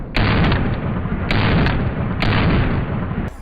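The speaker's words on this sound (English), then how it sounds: "that's an airsoft gun right there" Loud airsoft gun firing in a few sharp bursts, the shots close and harsh, with no talking.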